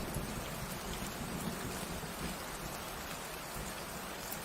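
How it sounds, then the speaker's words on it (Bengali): Steady rain falls in a continuous hiss of drops on surfaces, moderately loud and uniform from start to finish, with no voices. "এমন সময় হঠাৎ বৃষ্টি নামলো।"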